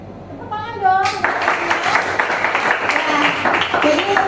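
A classroom of children claps together in a burst of rapid, overlapping hand claps that starts after a moment of voices and continues steadily, with kids' voices mixed in beneath.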